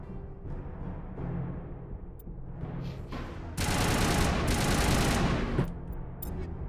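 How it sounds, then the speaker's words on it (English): Lancer assault rifle from the Mass Effect video game firing in sustained rapid bursts, a dense loud rattle of automatic shots that swells over a steady background of game sound. "This is the Lancer. Okay, well, it's just straight rapid fire."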